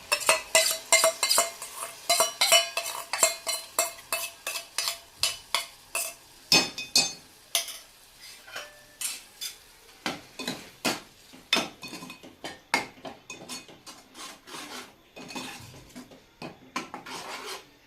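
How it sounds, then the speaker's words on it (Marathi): Egg curry masala with onion, tomato, ground paste and curd being stirred in a pan, a quick run of close metallic spoon scrapes and taps against the pan over a low sizzle, slowing toward the end. "दही चांगलं तेल सुटेपर्यंत आपण परतून घेऊया"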